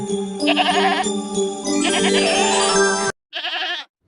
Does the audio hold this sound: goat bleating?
yes